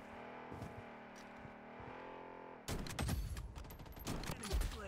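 Gunfire in the shooter game Blood Strike: faint game sounds give way to a burst of rapid automatic shots and impacts, fairly quiet overall.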